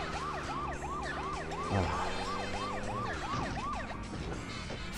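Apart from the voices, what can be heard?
police car siren in video game GTA 2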